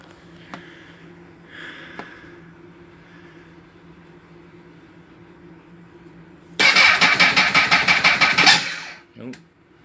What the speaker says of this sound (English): let's start the bike up